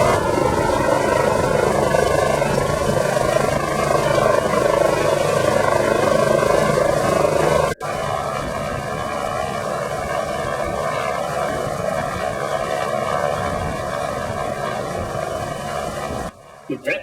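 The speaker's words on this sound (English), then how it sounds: "the gentleman will come down in the chopper" A rescue helicopter hovers during a State Emergency Service training exercise, its rotor and engine making a loud, continuous, throbbing drone throughout, with a brief cut partway and some low voices blended underneath.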